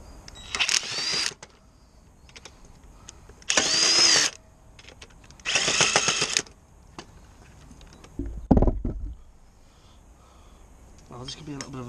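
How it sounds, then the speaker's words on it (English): Impact wrench on a normal socket removing the shock absorber nut on a rear suspension of a Ford Fiesta MK6, sounding in three loud bursts of about a second each, followed by a heavier clank and a brief noise near the end. "This is just a normal socket on an impact,"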